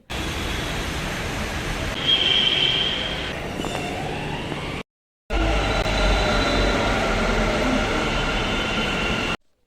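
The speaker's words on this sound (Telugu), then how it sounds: "కొంచెం లేట్గానే వచ్చింది. ఫైనల్గా నేను మెట్రో రైలు ఎక్కాను" A Bengaluru metro train rumbles into the station with a steady roar and a brief high squeal of wheels, cuts out briefly, then continues humming at the platform.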